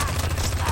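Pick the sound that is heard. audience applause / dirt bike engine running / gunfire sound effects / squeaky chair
gunfire sound effects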